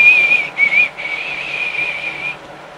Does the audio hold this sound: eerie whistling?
yes